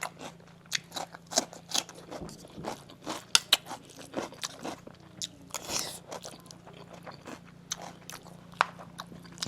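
Someone chews potato from a duck egg and canned fish curry with close, moist biting and crunching sounds, irregular soft smacks and squishes over a low steady hum.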